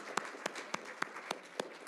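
Audience applause for award winners at a hackathon event in a ballroom, with distinct claps in a steady rhythm, moderately close.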